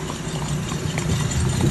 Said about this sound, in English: Ride that horse